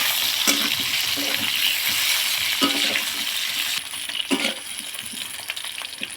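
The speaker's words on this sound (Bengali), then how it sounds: "এবার ভেজে নেবো আমি আলুটা।" Potatoes frying in oil in a pan before tilapia is cooked, a loud, steady crackling sizzle with intermittent sharp clicks of a spatula stirring and turning the pieces, close up and without speech.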